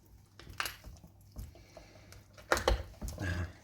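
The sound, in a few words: chicken bone cracking while separating chicken leg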